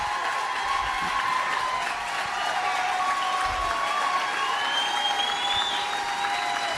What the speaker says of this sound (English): Roaring applause.